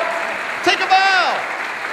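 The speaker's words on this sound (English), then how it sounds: "give Isabel a huge round of applause" Steady crowd applause at a magic show with the Washington Symphony Orchestra, honoring the conductor, with a voice talking over the constant clapping.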